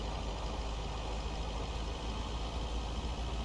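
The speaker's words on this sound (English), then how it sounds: "my engine's making noises again, so that's nice" Steady, dense engine rumble of a vehicle driving in the game Lake, a constant drone that fills the whole stretch without pauses or talk.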